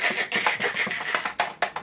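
A voice imitates loud Razer keyboard typing with a quick run of close, sharp clicking and clacking bursts, uneven in rhythm.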